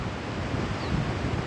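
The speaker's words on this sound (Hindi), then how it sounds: "एक तरफ बहती हुई टोंस नदी" The Tons river flowing beside a hillside walking route, a steady broadband rushing murmur with no breaks, fairly close and even throughout.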